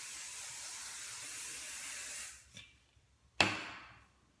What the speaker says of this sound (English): you just do your final touch of hairspray